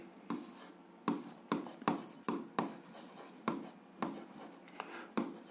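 Pen strokes scratch across paper in short, separate bursts at an uneven rhythm while an algebra solution is written out, close and fairly soft.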